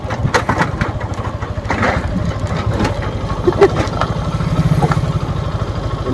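Motorcycle engine pulling a small cart hitched behind, a close, steady mid-pitched putter with rhythmic chugging that rises and dips slightly, with faint background noise.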